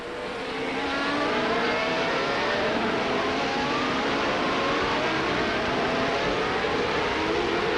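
IndyCar race cars roar steadily past on a racing circuit, a continuous loud engine drone with shifting pitch filling the whole stretch.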